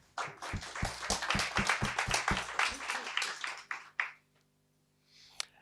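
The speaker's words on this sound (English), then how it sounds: "a round of applause to all of you." Applause from a small audience at a book event at Love Books, with distinct, rhythmic claps close by for about three seconds. A few isolated claps follow, then near silence.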